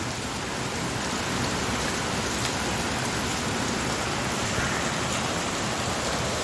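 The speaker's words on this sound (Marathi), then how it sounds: "प्रचंड पाऊस सुरू आहे" Heavy rain pours down in a dense, constant roar, steady throughout with no pauses and no voices.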